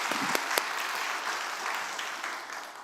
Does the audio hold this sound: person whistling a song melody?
no